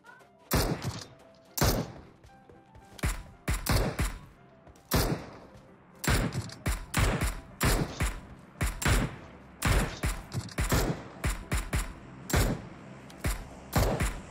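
Gunfire from the mobile battle royale PUBG Mobile, sharp shots cracking out in irregular bursts and single reports across the whole stretch, loud and close with brief gaps between volleys.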